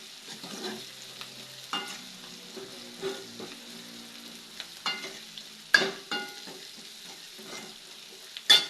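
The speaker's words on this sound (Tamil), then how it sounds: "வெங்காயம் எல்லாம் வேகட்டும்" Onions frying in a pan for tamarind curry, a faint soft sizzle under scattered spoon scrapes and clinks against the pan, with a few sharper knocks.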